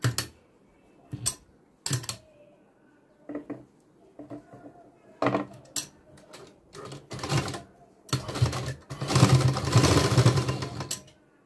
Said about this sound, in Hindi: अब यहाँ पर हम स्टिच करेंगे।